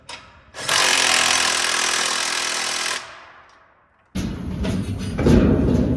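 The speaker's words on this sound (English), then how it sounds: "Get to use power tools for some of it." A power tool whines loudly for a couple of seconds and spins down, then another tool starts up with a harsh, grinding buzz.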